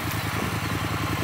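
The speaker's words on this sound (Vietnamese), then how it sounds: "bây giờ thì mình sẽ nổ máy xe này lên" A 2023 Triumph Speed Twin 900 motorcycle engine idling, a steady, deep, even pulsing exhaust beat heard close up with no talk.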